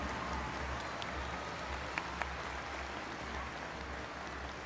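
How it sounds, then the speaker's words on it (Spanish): Faint, steady applause from the audience at a school folk dance festival for third- and fourth-grade students and their teachers, a soft continuous wash of clapping heard from a distance with a couple of brief louder claps. "dar un último pero cariñoso aplauso a todos los estudiantes y profesores que esta mañana nos deleitaron con sus bailes"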